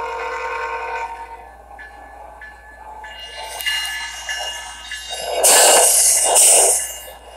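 Train passing a trackside railfanning spot, a steady rumble of rolling cars building to two loud blasts of the horn near the end, heard close and without voices.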